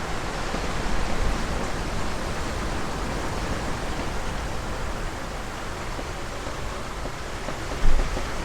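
Wind roars and big waves break against a sailboat in a squall at sea, a steady, dense wash of noise with one brief louder slap near the end.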